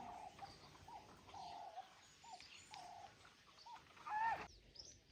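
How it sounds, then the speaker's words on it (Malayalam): Several short cooing bird calls repeat at a steady pace outdoors in Africa, moderately near, with a brief sharper chirp near the end over soft background noise. "പുറത്ത് എന്തൊക്കെയോ പക്ഷികളുടെ ഒക്കെ ഒച്ച കേൾക്കുന്നുണ്ട്"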